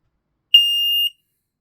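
A Fire Angel SB1-R smoke alarm sounds one sharp, piercing, high electronic beep that lasts about half a second, loud and close against total silence.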